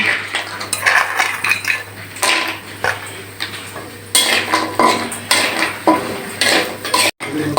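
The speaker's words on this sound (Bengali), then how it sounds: "তেল গরম হয়ে গেছে প্রথমে আমি বড়িগুলো ভেজে তুলে নেব" Lentil dumplings (bori) frying in hot oil in a wok, heard as clattering utensil scrapes and stirring knocks in irregular bursts over a low steady background, fairly close.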